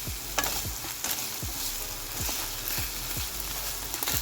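Garlic sizzles steadily in a hot pan alongside onions while being tossed and stirred, with repeated scraping strokes every half second or so cutting through the continuous close frying hiss; no one talks.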